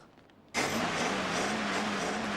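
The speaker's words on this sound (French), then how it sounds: "le moteur était trop puissant pour le châssis" After a brief quiet moment, a car engine suddenly roars up and holds a loud, steady, rumbling drone.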